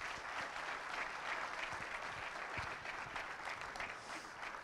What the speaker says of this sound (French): la parole à notre président, Michel Aubinet, que vous pouvez applaudir